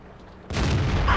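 A tank cannon firing in World of Tanks, playing a T29: one heavy boom that bursts in suddenly and rolls on with a rumbling tail, loud and alone.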